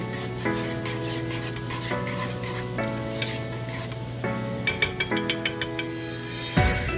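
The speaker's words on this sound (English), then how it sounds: "Stir up cheese." Cheese for asada fries is stirred in a pan, giving soft scraping and rubbing with a low sizzle, plus a run of light metallic clinks toward the end and a final clatter.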